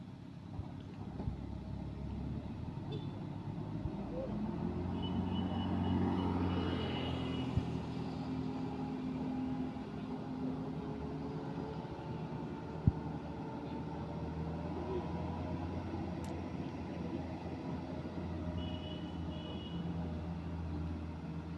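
An Isuzu truck engine labours up a steep hill on a road with a queue of trucks, a steady low drone with a brief rise in the middle, fairly distant and unaccompanied by talk.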